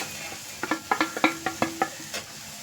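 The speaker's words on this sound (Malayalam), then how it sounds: "ഒരല്പം ഉപ്പ് കൂടെ ഇട്ടിട്ട് ഒന്ന് മിക്സ് ചെയ്യാം" A thoran curry is stirred with salt in a pan, the spoon scraping in about ten quick, close strokes over a soft background sizzle.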